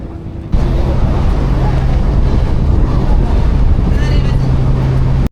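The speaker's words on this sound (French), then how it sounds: "on va prendre le ferry" Ferry at sea off Koh Samui, Thailand, on a windy day with rough water, heard as loud wind buffeting the microphone over a steady low engine drone and rushing water, with faint voices.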